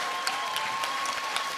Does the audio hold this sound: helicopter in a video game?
no